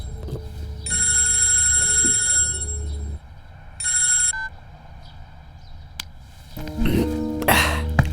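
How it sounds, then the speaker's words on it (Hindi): An electronic telephone ring sounds in two bursts, the first long and the second short, followed by rustling and a brief voice near the end. "किसका फोन है?"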